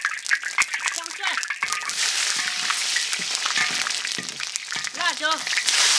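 Ginger and garlic sizzling in a generous amount of hot oil in a wok, a steady frying hiss with scraping stirs, while a person talks over it.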